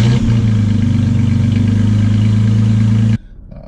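A Toyota Tacoma pickup engine fitted with an MBRP aftermarket exhaust gives a loud, steady low rumble close by, holding a constant throaty drone for about three seconds before cutting off abruptly to near silence.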